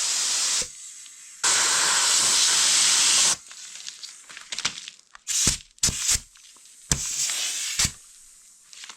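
Pressurised air or steam hisses out of a hose during a log cabin renovation: long loud broadband bursts, then shorter spurts and sizzling escapes in an irregular rhythm, with no talking.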